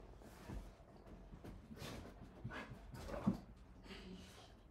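A dog whimpers and whines faintly at breakfast time, with soft panting and small yips in a quiet room.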